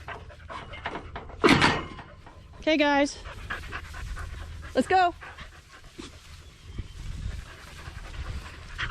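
Dogs at a ranch panting in short bursts close by, with brief whimpers and a person talking in between.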